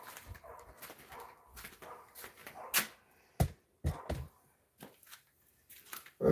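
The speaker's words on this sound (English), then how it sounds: "Nobody asked you to bark, bark, bark." A dog lets out a series of sharp barks, separated by pauses and irregularly spaced, moderately close, against quiet rustling and faint background noise.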